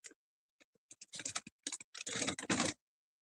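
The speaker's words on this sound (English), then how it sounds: "Gita, can you type again, please?" Close computer keyboard typing with scattered single key taps at first, then denser clusters of clicks building into short rapid bursts before stopping into silence, with no talking.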